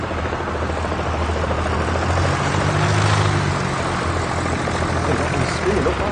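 Old light aircraft at a fly-in at Barton Aerodrome, Manchester, a steady propeller-engine drone filling the background at moderate distance, constant and unbroken throughout.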